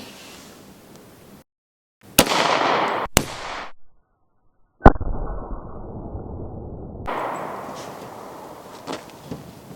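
A sharp .45 ACP pistol shot fired with a Barnes TAC-XPD round into ballistic gel rings out close and loud, with a couple of other sharp cracks and bursts of rustling handling noise around it.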